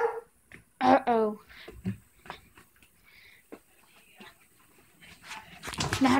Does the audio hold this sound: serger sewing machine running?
no